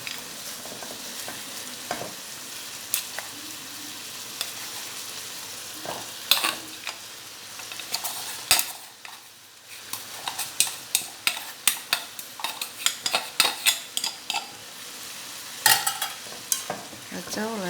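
Stir-frying white rice for tom yum fried rice in a pan, with a steady sizzle and irregular scraping of the spatula and clinks of utensil against the pan throughout.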